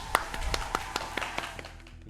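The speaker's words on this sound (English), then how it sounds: "Let's give a round of applause for Slow." A short round of applause for the anonymous street racer Slow comes through as a sparse, fairly steady run of individual handclaps, close and crisp, rather than a full crowd.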